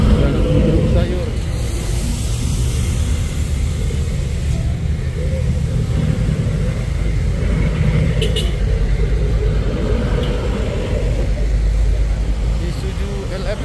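A vegetable truck passes along a road, its engine a loud, steady low rumble that stays close for the whole stretch, with faint voices underneath.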